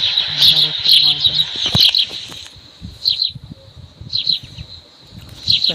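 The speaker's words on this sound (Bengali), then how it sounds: "এখানে পাখির আওয়াজের জন্য আমার ভয়েসটা মনে হয় একটু কমতে যাচ্ছেন" Birds chirp close by in repeated shrill bursts alongside a steady high insect-like hum, with a person speaking over them.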